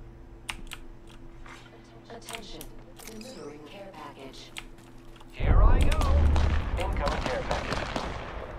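Gunfire in the video game Apex Legends erupts as a sudden dense burst of shots about halfway through and keeps going steadily. Keyboard clicks and a voice are heard before it begins.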